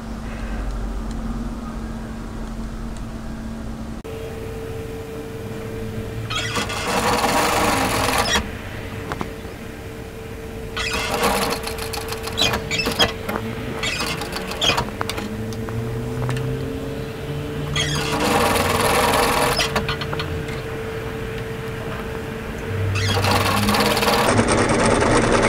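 Domestic sewing machine stitching a cami strap, running in several bursts of steady whirring with pauses as the needle stops and the fabric pivots, close and moderately loud with a faint background hum.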